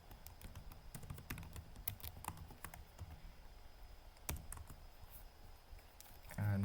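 Code is typed on a computer keyboard in quick, irregular bursts of soft clicks and key taps, fairly faint and close, with a longer pause and a single heavier tap partway through.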